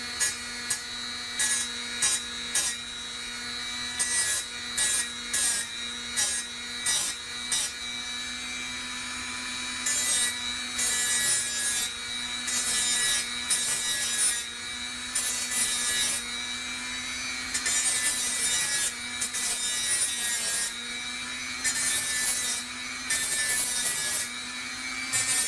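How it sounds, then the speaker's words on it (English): A small Dremel rotary tool whirs steadily at low speed, with bursts of gritty grinding as it sands a 1/64 scale diecast model truck in short passes. "You can take your Dremel on low, come in here and touch it up."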